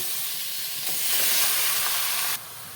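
Mutton hits a hot pan with no oil, setting off a loud, steady sizzling hiss that swells after a second and then drops back, close up with no talking.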